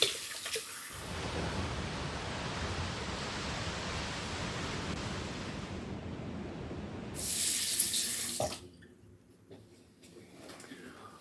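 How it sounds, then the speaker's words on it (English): A tap runs in a steady, broad hiss as a face is rinsed after a close shave with a slant safety razor. The flow swells briefly louder near the end, then cuts off, leaving faint drips and movement. "All right, let's rinse off."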